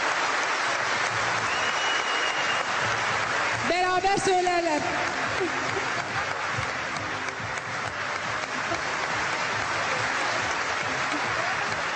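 Applause from a crowd at a Turkish Olympiad event in Azerbaijan swells and fills the room steadily, with a voice speaking over it briefly in the middle.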